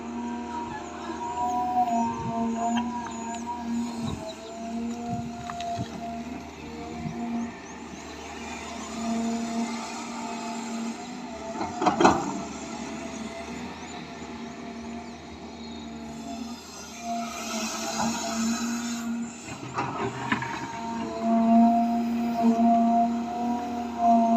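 Dogs howl at a distance over the steady engine drone of a CAT 323GC excavator digging a new pond in clay soil. The howls are drawn out and partly masked by the machine noise, rising briefly near the middle and again toward the end.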